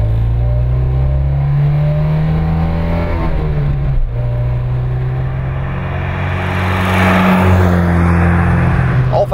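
A 1978 Alfa Romeo Alfetta sports car revs its engine hard, alone and close, with rising and falling engine pitch and a shift around the middle before climbing again toward a loud finish.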